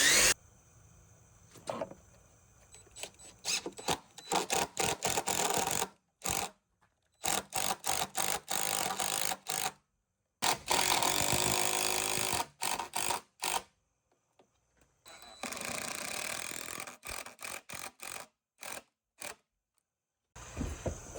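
Bursts of a power drill whirring into a wooden beam, drilling screw holes, repeated on and off with short pauses between, close by and fairly loud.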